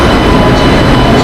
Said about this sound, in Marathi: ही पण ट्रेन चालली आहे आपल्या मुंबईला